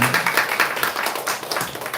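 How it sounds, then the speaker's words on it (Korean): A church congregation at a Sunday neighbor-invitation worship service claps together after a prayer, a dense, even patter of many hands filling the room for a couple of seconds. "박수 한번 하겠습니다"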